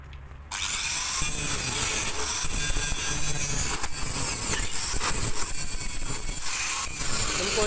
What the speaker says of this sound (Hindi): इस साइड जो निकल रहा है इनको हम ग्राइंडर से बराबर काट देंगे